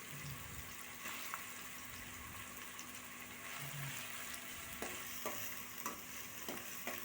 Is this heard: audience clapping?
no